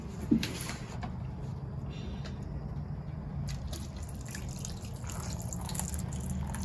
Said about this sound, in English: Okay, I do need to water this.